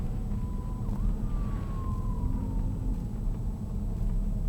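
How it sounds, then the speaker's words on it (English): Fire truck sirens wail and sweep past over a steady engine rumble during a fire department Easter parade, the siren rising and falling nearby against a constant low drone. "pulling over to let the fire trucks go by"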